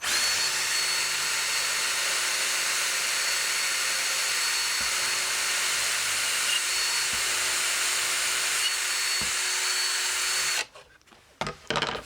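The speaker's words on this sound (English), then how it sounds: "Down a little, and then drill at an angle." A power drill whirs continuously and loudly at close range for about ten seconds, drilling an angled wire channel into a guitar body, then stops abruptly, followed by a few clunks and handling noises.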